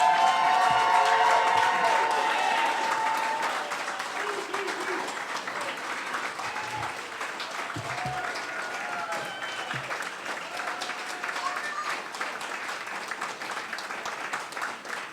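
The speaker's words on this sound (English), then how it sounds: "Let's all stand and celebrate these 7 graduates and give them another round of applause." An audience at a graduation ceremony for seven graduates of a treatment program gives sustained applause with some cheering, loud at first and then easing to a steady clatter of many hands across the hall.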